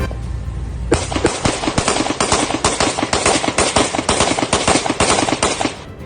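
Rapid gunfire bursts out after a second of quiet, dozens of sharp, loud shots cracking in quick irregular succession for about five seconds before stopping, fired at a house.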